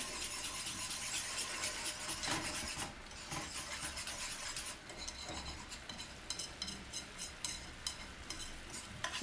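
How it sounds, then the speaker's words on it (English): A utensil scrapes and stirs around the sides of a pan of thickening sauce, giving steady rasping strokes with a faint sizzle underneath, close and continuous. "Get all the stuff off the sides of the pan and incorporate that."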